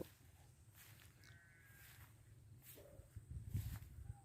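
A goat bleats faintly a few times at a distance outdoors on a cold morning, short wavering calls over quiet ambient noise and soft footsteps.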